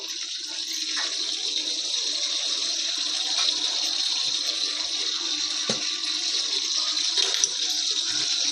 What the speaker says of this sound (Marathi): हे बघा, ह्याला उकळी येते